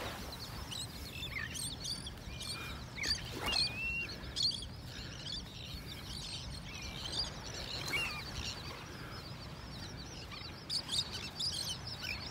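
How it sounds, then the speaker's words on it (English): Birds chirp and call intermittently over a sandbar beach in North Naples, Florida, with short sharp notes scattered over a steady low wash of background sound and no talk. "Listen to all the birds."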